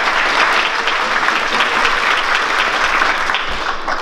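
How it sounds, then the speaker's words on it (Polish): At a Christmas nativity play in Mielec, an audience claps for the accordionist in loud, dense, sustained applause that fades slightly toward the end. No one speaks over it. "Wielkie brawa."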